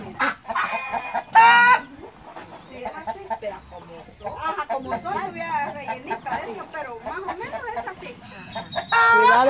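Chickens cluck and a rooster lets out loud harsh calls at the start and end, with a voice talking in between.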